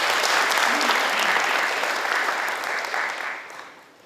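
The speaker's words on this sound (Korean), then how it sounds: "박수 한번 해주세요." Dense, steady applause rises from a crowd at a provincial governor's town-hall forum in Seongju, loud and close at first, then tapering off toward the end.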